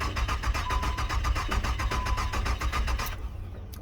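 A 2000 Nissan engine cranks in a fast, steady starter rhythm for about three seconds without catching, loud and close, then stops abruptly.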